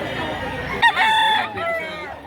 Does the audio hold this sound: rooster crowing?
yes